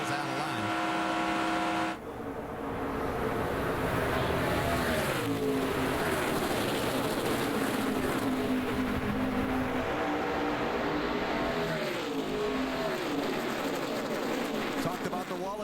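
NASCAR Nationwide Series race cars running in a tandem draft at Talladega, engines roaring loudly and continuously with rising and falling pitch sweeps as cars pass, under race commentary.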